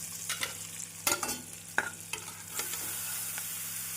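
Grated carrot and onion sauté over medium heat in a pan, giving a steady soft sizzle with a few sharp stir clicks of a spatula near the start, close up with no talking.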